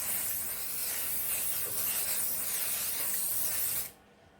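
Non-stick cook and bake spray hisses steadily from an aerosol can into a silicone muffin pan, one continuous close spray lasting about four seconds before cutting off abruptly.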